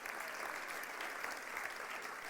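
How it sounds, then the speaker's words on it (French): An audience at a French-language religious gathering applauds a couple married fifty years: steady, dense clapping that runs unbroken through the whole stretch, fairly soft and distant, with no voices over it. "est-ce qu'on peut l'applaudir bien fort?"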